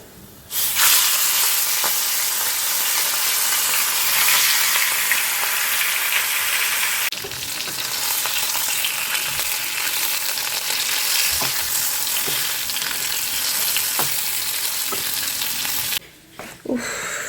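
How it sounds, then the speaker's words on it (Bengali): Fish frying in a pan on a cooker gives off a loud, continuous sizzle and hiss that runs steadily, with a few brief dips and small pops along the way. "চলো মাছটা ভেজে নিই।"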